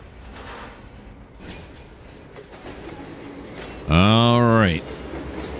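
Train rolling on rails in the Trainz 2022 simulator, a steady rumbling run with clicking wheels, capped by a loud tonal horn blast of just under a second near the end.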